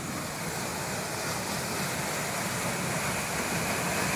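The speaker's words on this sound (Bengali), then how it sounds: "পিছন থেকে জলে আওয়াজ পাচ্ছে অনেক বেশি" Water pours from a canal into a river with a constant, close hissing rush, steady and loud throughout with no voices over it.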